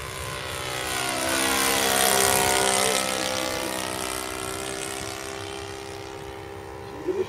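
Sea Fury model aircraft engine running at high revs, a loud steady propeller drone that swells and then holds, with faint background voices.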